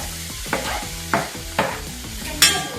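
Chopped tomatoes tipped into frying chicken masala and stirred, loud sizzling with four distinct scraping stirs at irregular intervals, close and clear.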